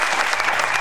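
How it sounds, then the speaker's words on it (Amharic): Warm, steady applause fills the room for a quiz contestant on a Saturday afternoon game show, dense continuous clapping from a studio audience with no voices over it. "ለሷ ሞቅ ያለ ጭብጨባ ነው"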